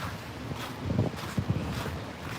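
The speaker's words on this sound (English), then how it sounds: "gotta show you how strong the wind is" Strong wind during a winter storm in Washington DC buffets the microphone with a low, uneven roar and a few louder gusts, with no one speaking.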